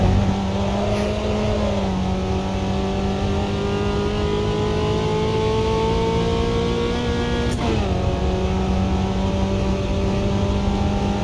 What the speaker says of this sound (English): I can hear the transmission more than I used to